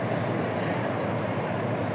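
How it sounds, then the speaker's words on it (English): A tram passes through the streets of Turin, Italy, making a loud, steady rumbling roar that fills the whole moment without a break. "Tram."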